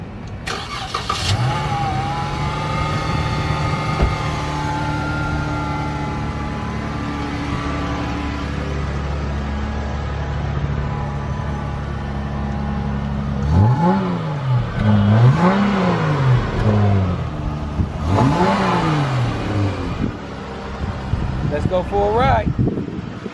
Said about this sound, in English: I'm gonna give y'all a little rev so y'all can hear it